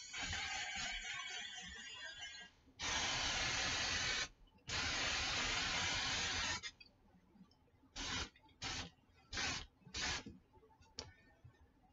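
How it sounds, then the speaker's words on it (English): Hairspray from an aerosol can used to set makeup: two long, loud hissing sprays, then a series of short, quick bursts, close and with no voices. "Hairspray. It'll make your makeup stick."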